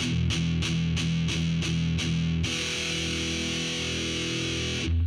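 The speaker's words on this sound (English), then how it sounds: "Or if you use palm muting," Distorted heavy metal electric guitar playing short, chugging palm-muted chords in a steady rhythm, then one open ringing distorted chord sustained for several seconds, loud and close with no talking.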